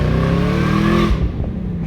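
Turbocharged Chevy S10 pickup exhaust roars loud and close under acceleration, then drops off with a short burst of crackling pops as the throttle lifts, with no talking.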